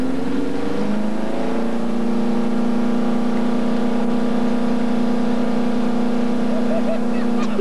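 A car's engine revs hard while a single tire spins, a loud, steady droning whine that climbs in pitch and holds high, alone without talk.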